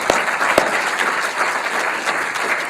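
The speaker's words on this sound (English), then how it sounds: "I think it deserves a round of applause there." Sustained applause from a conference audience after a welcome address on the history of restricted diffusion MR, dense steady clapping with a few sharper claps standing out near the start.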